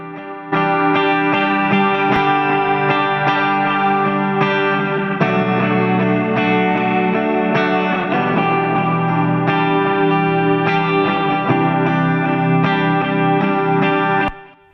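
An instrument in an ambient, moody mix, sent through delay and reverb with an added plugin, rings in steady, layered sustained tones with echoing tails for the whole stretch, loud and without talk.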